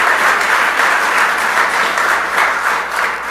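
A crowd applauds at a grand opening ceremony, with dense, steady clapping that stays loud and unbroken throughout.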